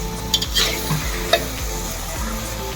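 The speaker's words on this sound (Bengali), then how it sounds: "মাংস কষানো চলছে" Chicken pieces with spices sizzle and fry in a pan for a Bengali red curry, a steady close crackle broken by a few sharp scraping stirs of a spatula.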